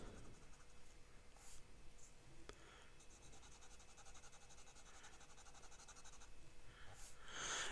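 A Montegrappa fountain pen nib scratches across paper in close, quiet strokes, with short rhythmic bursts of writing and brief pauses between them.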